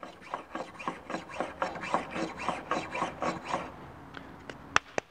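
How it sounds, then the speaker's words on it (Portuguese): Block plane shaving a chamfer along the edge of a wooden board, a run of rhythmic rasping strokes close by, ending in a few sharp clicks. "as block planes também são boas, assim como, por exemplo, fazer este tipo de chanfro aqui, ó."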